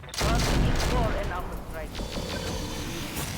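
Mech weapons fire in the RogueTech video game, a loud volley of booming gunfire bursts that fades into rumbling echoes, with a voice talking over it.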